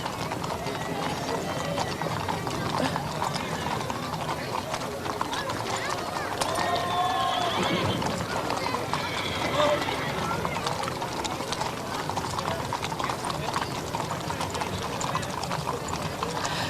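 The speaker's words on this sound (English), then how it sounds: "They brought a bunch of horses with them." Horses' hooves clip-clop steadily on pavement during a rodeo parade in Tucson, a busy and continuous clatter under an announcer's voice, with a brief whinny partway through.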